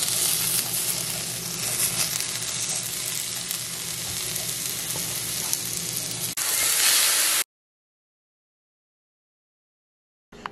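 Food sizzles in a pan on a home stove as dinner cooks, a loud steady hiss up close with occasional stirring, then it cuts off abruptly into silence, with no talking.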